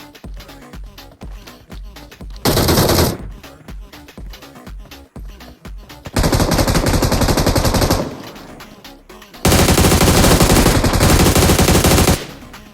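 Loud bursts of automatic gunfire alternate with quick single shots, some long sustained sprays, close and harsh with short gaps between volleys, in BGMI (PUBG Mobile) gameplay.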